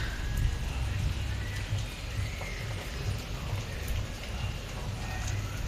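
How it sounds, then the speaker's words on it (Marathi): Heavy monsoon rain pours steadily near a home in Maharashtra, a dense continuous hiss with low rumble throughout, loud and unbroken, with no talk over it. "हे बघा हा असला पाऊस."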